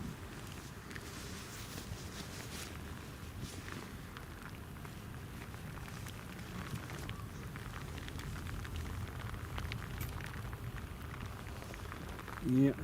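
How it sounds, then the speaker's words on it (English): Heavy rain lashing down at an airport, a continuous hiss of drops on hard surfaces holding steady throughout, with faint background rumble and a brief louder knock near the end. "See the rain there, it's just started lashing it down."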